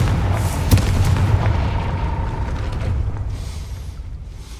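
Confringo explosive spell in Hogwarts Legacy: a sharp blast near the start followed by a rumbling, fading low boom over a dense background.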